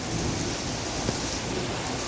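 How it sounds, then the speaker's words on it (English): A Wisconsin thunderstorm with steady rain and low thunder, heard as a dense, even wash of rainfall over a soft rumbling bed, with no talking. "Hearing that lightning, I'm expecting one to hit right over here."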